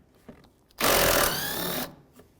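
A power tool backs out a 10mm bolt on the lower panel of a 2015-2019 Hyundai Sonata, a single loud burst of whirring ratchet or drill noise lasting about a second, close up and without talk.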